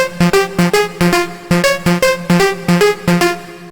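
Lead Cold, a Future Rave synth lead from a sample pack, plays a choppy staccato melody of bright, punchy notes in a steady rhythm, loud and close, with no voice over it.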